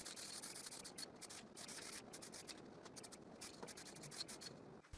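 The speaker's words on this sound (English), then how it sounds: "I slightly sand everything" Varnished pallet wood is lightly sanded by hand in quick, uneven back-and-forth strokes, faint and close, with a soft scratchy rhythm.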